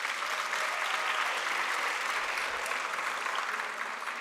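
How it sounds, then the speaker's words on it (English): Graduates applauding at a health sciences oath-taking ceremony, a sustained, even wash of clapping from a large indoor crowd, moderately loud and steady throughout. "Clap hands for yourselves."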